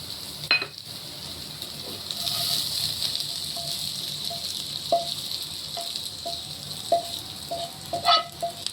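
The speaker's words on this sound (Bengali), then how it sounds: "দিয়ে আমি এবার উচ্ছেটা ঢেলে নিই।" Sliced bitter gourd tips from a utensil into a pan at home with the gas just switched off, bringing a steady hiss and sizzle with small clinks and scrapes of utensils, close and continuous, with no talking.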